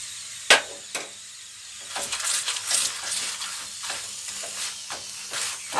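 Paratha frying in a little oil in a pan, giving a soft, uneven sizzle broken by sharp taps and scrapes of a spatula, close by with no talk.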